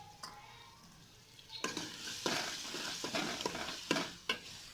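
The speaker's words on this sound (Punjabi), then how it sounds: "ਆਇਲ ਗਰਮ ਹੋ ਚੁੱਕਿਆ, ਉਹਨਾਂ ਨੂੰ ਅਸੀਂ ਚਮਚੇ ਦੇ ਨਾਲ ਹਿਲਾ ਕੇ ਮਿਕਸ ਕੀਤਾ।" A spoon stirs minced garlic and chopped chilies in hot oil in a pot, with close scraping strokes and clinks over a soft sizzle.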